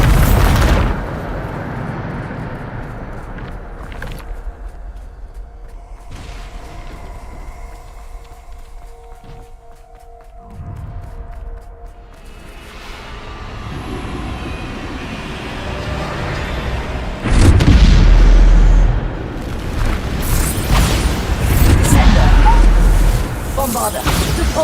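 Bombarda explosion spells blast in a wizard video game, with rumbling booms and one heavy blast near the end, over a constant noisy background with voices.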